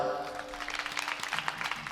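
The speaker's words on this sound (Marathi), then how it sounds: "टाळी वाजवा एक बार त्यांच्यासाठी." Audience applause at a kirtan gathering, a dense burst of many hands clapping that carries on steadily for the whole two seconds at moderate loudness.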